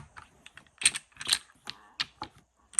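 Bakelite checkers set out one by one on a tournament-sized backgammon board, a quiet series of sharp clicks and taps at irregular intervals, close by.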